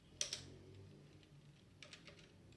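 A command typed on a computer keyboard: a quick burst of two or three close key clicks, a pause, then another short run of soft taps, quiet overall.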